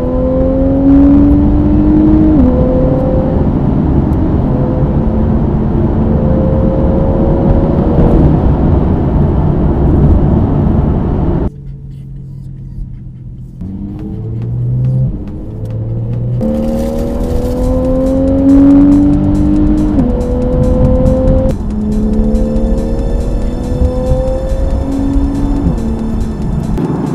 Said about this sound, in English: currently driving through the English countryside and along the A roads, which is so beautiful